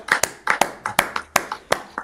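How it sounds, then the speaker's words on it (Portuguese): Studio applause for a guest arriving on a Brazilian football talk show: a small group claps in a steady, fairly quick rhythm of sharp, close hand strikes, with no talk over it. "Palmas pra ele."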